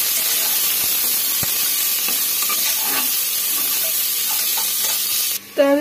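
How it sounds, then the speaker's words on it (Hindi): Onions fry with salt in a pan, giving a steady broad sizzle and hiss with faint scraping stirs, then ending in a brief louder clatter. "तो अभी प्याज भी फ्राई हो गया अच्छी तरह से"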